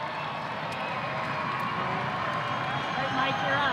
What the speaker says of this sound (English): Let's applaud these graduates one more time.